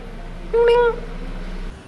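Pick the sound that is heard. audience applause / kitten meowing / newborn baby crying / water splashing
kitten meowing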